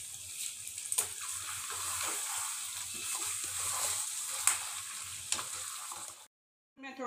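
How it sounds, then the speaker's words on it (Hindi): Garam masala is stirred into a mutton karahi frying in a wok-like pan, a steady bright sizzle with clinks and scraping of the spoon, then a sudden drop to silence. "अच्छी तरह से इसको मिक्स करेंगे"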